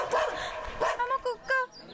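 A dog gives a few short barks and yips in quick succession, fairly close, within a comedy scene.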